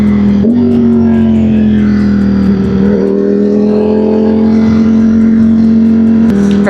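A powerful motorcycle revs hard and steadily, its engine note rising and holding loud and close, with brief shifts in pitch around gear changes.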